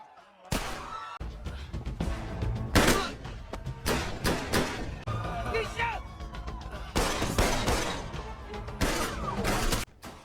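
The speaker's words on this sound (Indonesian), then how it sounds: "Saat Michael sedang berpidato, tiba-tiba terdengar suara tembakan dan Michael pun tersungkur" Several sharp, loud bangs of gunfire in a gangster film shootout burst out over a busy, dramatic soundtrack, with a few heavy impacts spread through the stretch.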